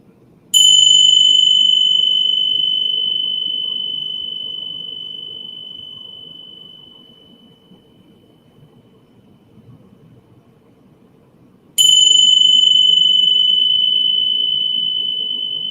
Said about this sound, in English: just allow the sound, the chimes, to dance around your ears